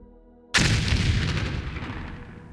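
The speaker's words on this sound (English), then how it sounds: "Okay, next explosion." A huge in-game explosion in Foundry blasts away a hill, hitting with a sudden loud boom and then rolling into a long, rumbling, crackling debris tail that fades slowly.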